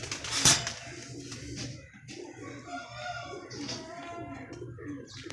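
A pair of pigeons or doves with their chicks coo in soft, repeated bursts at close range, with a brief rustle near the start.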